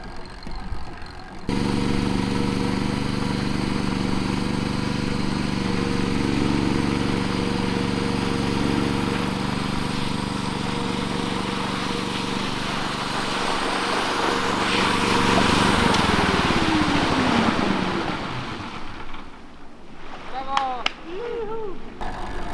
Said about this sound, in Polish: Silnik mamy, silnik mamy niemiecki, 13-konny, jednotłokowy, oczywiście napędzany na benzynkę.